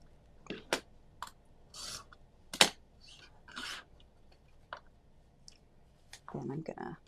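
Quilt fabric being trimmed along an Add-an-Eighth ruler, heard as scattered soft rasps, scrapes and clicks close by, faint and intermittent with quiet gaps between.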